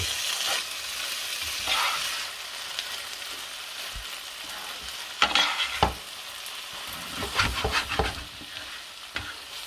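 Pad thai noodles stir-fried in a hot pan and tossed with egg, a steady sizzle broken by sharp scraping and clattering bursts of stirring, strongest near the middle and toward the end, with no talking.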